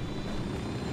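A helicopter flies in the video game Ghost Recon, its engine and rotor a steady, fairly faint drone held briefly without talk.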